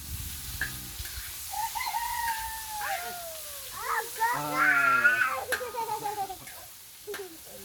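Chickens clucking and crowing in a yard, several birds calling over one another, with people talking nearby.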